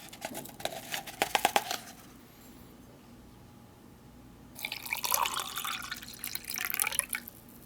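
Cold water, about 6 ounces, pours and splashes into a pouch to mix an MRE spice cider drink, heard as a short trickling burst early on, then a stronger sustained splashing pour a few seconds later.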